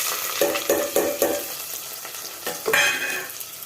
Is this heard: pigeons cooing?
no